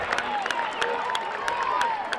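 Crowd at a college baseball game between UNC and UNCW cheers and claps in the late innings, a steady roar with scattered sharp claps, while a commentator talks over it.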